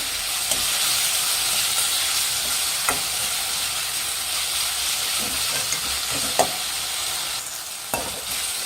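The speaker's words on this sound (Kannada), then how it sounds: "ಟೊಮೊಟೊ ಚೆನ್ನಾಗಿ ಫ್ರೈ ಮಾಡಿ ಹಾಕ್ತೀನಿ" Chopped tomatoes frying in a pan for bisi bele bath give a steady close sizzle and hiss, with occasional soft scrapes of stirring and no voices.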